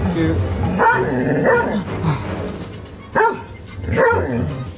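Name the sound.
dog barking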